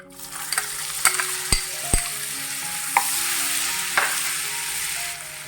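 Butter sizzling in a pan for white sauce pasta, a steady close frying hiss with a few sharp clinks and taps of a utensil against the pan.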